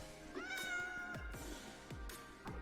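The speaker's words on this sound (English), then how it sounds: "I'm gonna see where this cat leads me." A cat in the video game Minecraft meows twice, a drawn-out call followed by a shorter one, close and clear over soft game background sounds.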